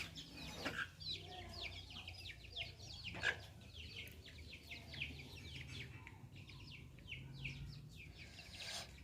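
Chickens cluck in a village yard on a winter afternoon, with small birds chirping around them and faint background voices throughout.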